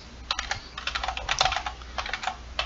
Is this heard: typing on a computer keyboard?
yes